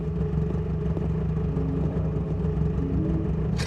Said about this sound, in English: I actually hear the car running.